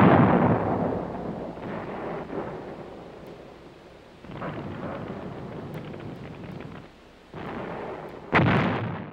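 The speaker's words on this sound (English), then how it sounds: "A very large number of guns, from 105mm to 12 enormous 210mm howitzers, opened a steady barrage on the bridge area." Artillery barrage from 105mm to 210mm howitzers: deep, rolling booms and rumbling blasts that swell and fade in waves, ending with a sharp, loud detonation.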